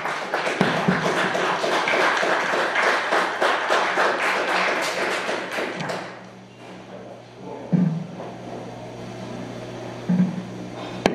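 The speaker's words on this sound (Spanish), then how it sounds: "Demos un fuerte aplauso a Miguel Salinas Chávez." Audience at a talk on Catholic theology giving a speaker loud, steady applause for about six seconds, then it stops abruptly, leaving a quiet room with a few soft knocks.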